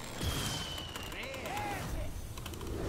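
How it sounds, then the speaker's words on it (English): Firework effects from opening Hearthstone Rastakhan's Rumble card packs sound as rising whistles and crackling pops over a few seconds, with voices talking underneath. "Look at the fireworks"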